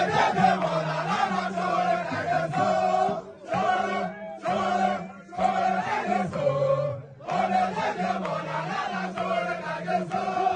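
A protest crowd sings songs of solidarity together, a loud chorus of many voices carrying a melody, with a few brief breaks between phrases.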